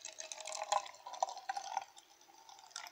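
Water pours gently into a small glass jar being filled for a homemade snow globe, a close, continuous trickle with splashy drips that rises and falls over a few seconds, with no talking.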